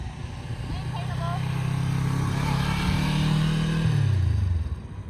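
Motorcycle engine ridden by a learner changing gears, a steady mid-pitched drone that rises and holds before dropping in pitch near the end, close and continuous, with no talk over it.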